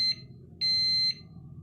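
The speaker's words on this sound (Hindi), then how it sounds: "सुनिए आपने बीप की आवाज़, ये हो चुका है।" Electric multi-cooker (GeeCook-type all-in-one pot, making khichdi and rice) beeping when cooking finishes: a short high electronic beep, then a longer sustained beep about half a second, clear over a low steady background hum.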